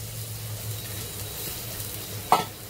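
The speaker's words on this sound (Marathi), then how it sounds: "तर ह्याच्यावर ना आपण आता ही गवार टाकूया" Cluster beans (gavar) tipped onto softened onions cooking on a tava give a steady low sizzle, with one short clatter of stirring near the end; no one speaks.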